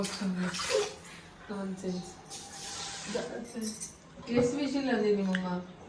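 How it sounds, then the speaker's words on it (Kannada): Water is poured from a glass into a pot for moong dal pongal, several splashing pours with light clinks of metal, while people talk over it. "ಸೇಮ್ ಗ್ಲಾಸಲ್ಲಿ ಗೈಸ್ 6 ಲೋಟ ನೀರು ಹಾಕ್ಬೇಕು."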